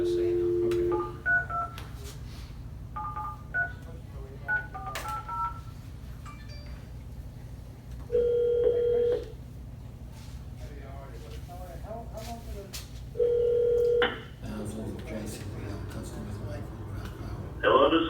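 Telephone keypad tones during dialing of a call at an election commissioners' meeting: a series of short DTMF beeps at uneven spacing, with several longer tones, over room hum and some background talk.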